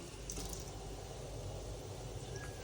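Water pours steadily into a bowl of cabbage Manchurian batter with turmeric, a quiet continuous splashing hiss with no talking.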